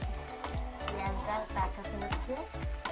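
Tempering spices crackle and sizzle in hot oil for onion dal, a close frying hiss punctuated by a rhythmic series of sharp pops and spatters, without speech.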